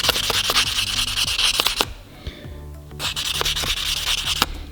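Fine 2000-grit sandpaper is rubbed by hand over a part from a 1976 BMW 2002 in close, brisk back-and-forth strokes, with a short pause midway before the scratchy sanding resumes.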